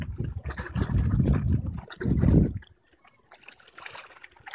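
Water washing and sloshing at the shore of the Great Salt Lake in Utah, two close, loud bursts of lapping and trickling followed by quieter dribbling ripples.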